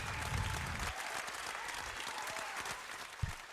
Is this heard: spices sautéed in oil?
no